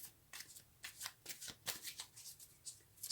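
Tarot cards being shuffled by hand, a run of soft papery riffles and flicks in an uneven rhythm, close and fairly quiet with no talking.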